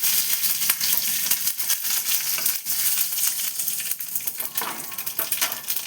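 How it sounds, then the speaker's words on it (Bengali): Curry leaves and black mustard seeds crackle and sizzle in hot oil for a dhokla tempering, a steady close frying hiss broken by sharp, irregular popping bursts throughout. "কারি পাতা বড্ড চটপট করে ফোটে"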